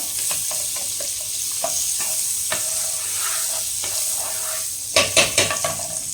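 Butter sizzling in a hot pan for bread pizza, a steady hiss with scattered clinks and stirring scrapes, louder spatula knocks near the end, no voices.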